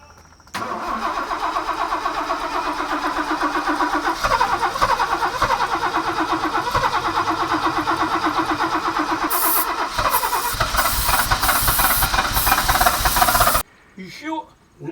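A car engine is cranked for a long, steady stretch of whirring starter noise with uneven surges, then cuts off abruptly, followed by brief quiet shuffling.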